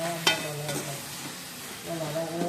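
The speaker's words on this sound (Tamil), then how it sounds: "வதங்கி எண்ணெய் பிடிக்கணும்" Masala sautéing in oil for a prawn gravy, a low sizzle under a couple of spatula scrapes against the pan, close and moderately quiet.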